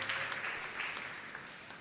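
A church congregation applauding after a sermon reading: soft, distant clapping from many hands, brief and fairly faint, with no talk over it.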